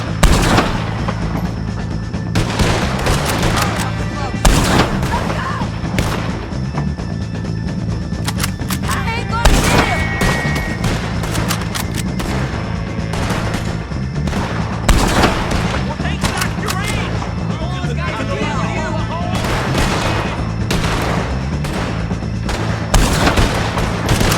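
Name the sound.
gunfire in the video game Red Dead Redemption 2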